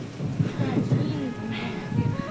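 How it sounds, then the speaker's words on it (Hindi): Steady heavy rain hisses and patters throughout at an ancient temple in Uttarakhand, with low rumbling underneath and a faint voice briefly in the background. "ये बारिश इतनी तेज आ चुकी है।"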